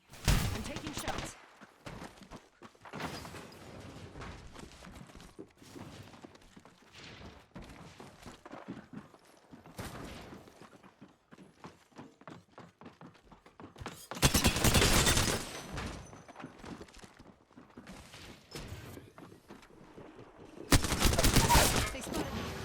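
Gunfire in the battle-royale shooter Apex Legends comes in sharp single shots and quick bursts, with two louder, denser volleys near the middle and end over a steady backdrop of game sound.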